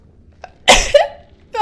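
A person sneezes once, loudly and close, in a quiet room, followed by a short vocal sound and then a brief voiced noise.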